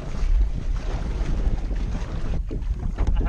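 Strong wind buffets the microphone while a kayak or canoe is paddled on open water, a loud, steady rumbling roar with splashy water texture throughout and no speech.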